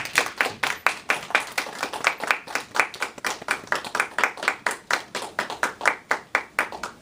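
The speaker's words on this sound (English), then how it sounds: "You don't have to keep clapping while I set up the screen here" Meeting audience clapping to welcome speaker Chris, a small group's distinct hand claps falling in a steady, nearly rhythmic beat, close and crisp, continuing without pause and with no talking over it.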